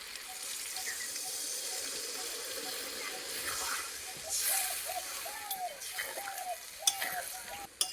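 Shrimp-washing water poured into a pot of cooked-down curry spices with potatoes, giving a steady soft splashing wash and faint bubbling that carry on through the clip, with a few light clinks late.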